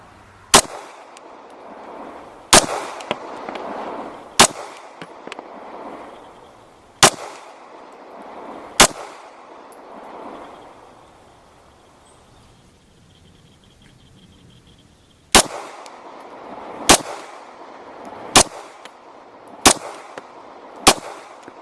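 Ten Glock 17 pistol rounds are fired at a target seven yards away. Sharp, loud single shots come every couple of seconds, with a long pause midway, each followed by a short echo.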